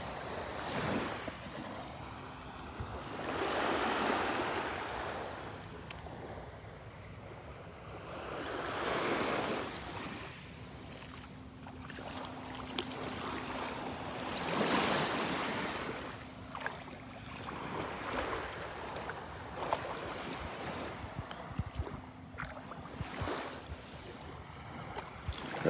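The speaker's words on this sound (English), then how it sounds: "listening to the little waves lapping on the shore" Small waves lapping on the beach shore at Delnor-Wiggins, gentle swells rising and falling every few seconds with soft surf wash and some wind noise, continuous and unhurried.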